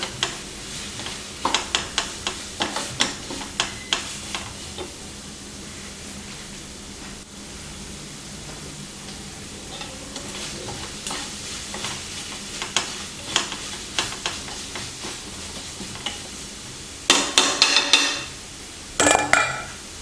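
A spoon stirs a sizzling tempering of curry leaves in a pan for dhal. Scraping strokes come in quick rhythmic bursts over a constant frying hiss, close and fairly loud.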